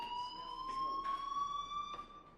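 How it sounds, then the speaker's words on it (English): A fire alarm sounds in the video game Life Is Strange, a steady electronic tone with slight pulsing that rings continuously at moderate loudness over faint background noise. "Hey, do you hear that fire alarm?"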